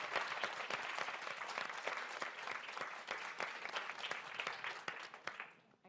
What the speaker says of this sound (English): So a round of applause for Arthur Cox.